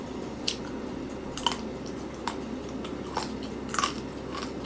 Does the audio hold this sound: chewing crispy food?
yes